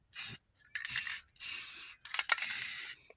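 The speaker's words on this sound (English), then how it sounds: "we're just going to spray paint over them" Aerosol spray paint applied to truck frame bolts: four close, loud hissing bursts, each under a second long, separated by brief pauses, with a few short rapid puffs in between.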